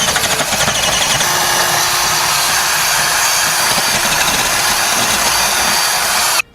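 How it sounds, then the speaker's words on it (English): A power drill with a 1/2 inch bit enlarges a bolt hole while installing a Roadmaster rear anti-sway bar on a 2015 Ford E-Series Cutaway, running as a loud, steady, close whine for about six seconds before stopping abruptly. "I'm just going to come back with that 1/2 inch drill bit and kind of wallow it out a little bit"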